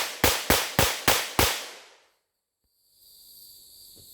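A Heritage Tactical Cowboy .22 revolver is fanned in a fast, even string of five sharp, close cracks, each one decaying quickly, followed by near silence and then a faint outdoor hiss.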